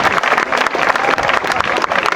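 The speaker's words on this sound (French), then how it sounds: "Applaudissements s'il vous plaît." Audience applause at a quadrathlon club event: dense, steady clapping from a room full of people, loud and continuous throughout with no pauses.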